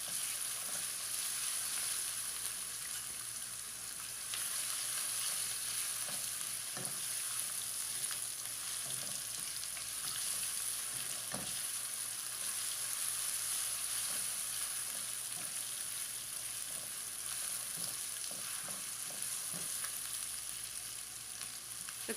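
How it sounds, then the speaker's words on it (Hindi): Ginger garlic paste frying with onions in a pan for black chana pulao, giving a steady, close sizzle that runs throughout with occasional stirring clicks and scrapes. "मिक्स कर लेंगे और इसको भी हम फ्राई कर लेंगे प्याज के साथ"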